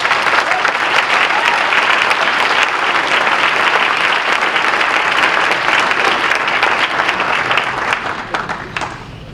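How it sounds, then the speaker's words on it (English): A packed ballroom crowd at a coronation ball applauds in a loud, dense, continuous roar of clapping that carries on for several seconds before thinning toward the end. "Give them a round of applause"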